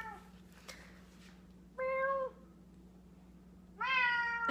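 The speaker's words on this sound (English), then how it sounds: "Yeah, he's a loud cat." A cat meows loudly twice, long drawn-out calls separated by a pause, close by over a low steady hum.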